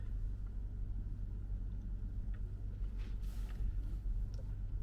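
A car in motion with a learner driver holding a driving permit at the wheel, heard from inside as a steady, continuous low engine and road rumble.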